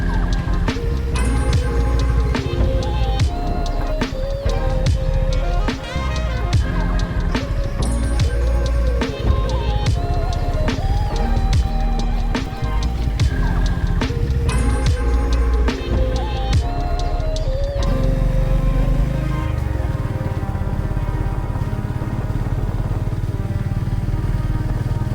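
A Honda CB350RS motorcycle rides through an under-construction road section on a Bengaluru to Wayanad route. Its engine drones loud and steady throughout, with shifting pitch and rough bumps, then the tone changes near the end.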